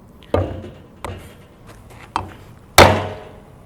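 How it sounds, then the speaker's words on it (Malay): A tactical flashlight, a Nitecore P20i-UV, strikes a flowerpot to try to break it: four sharp hard knocks spaced across a few seconds, the last loudest with a crackling shatter. No voices. "kita cuba pecahkan pasu bunga ni dengan menggunakan flashlight ni"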